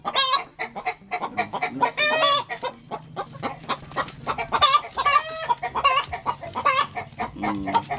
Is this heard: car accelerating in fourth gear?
no